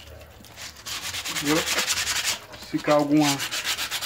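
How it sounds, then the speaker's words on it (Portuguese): Finer sandpaper rubbing over sun-damaged plastic, making a close, rhythmic back-and-forth rasp in repeated strokes, with someone speaking Portuguese briefly in between. "Dando um trato aqui por cima aqui com outra lixa mais fina."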